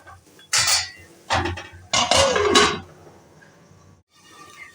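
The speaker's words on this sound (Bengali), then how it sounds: "এবার সুন্দর করে নেড়ে এবার এটাকে ঢাকনা দিয়ে চাপা দিয়ে দেব" A metal pan on a home stove being stirred and then covered with a lid while spices cook: several loud scraping and clattering bursts, close by, separated by short quiet gaps.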